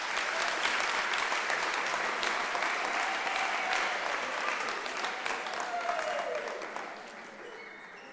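An audience at an academic-year opening ceremony gives a steady round of dense applause for a candidate on stage, loud and even throughout before tapering off near the end.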